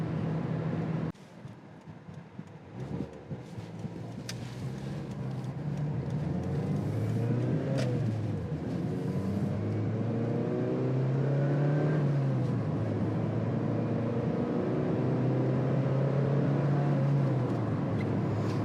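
A Mazda MX-5's engine hums and rises through the gears as it drives along, the revs climbing and falling steadily.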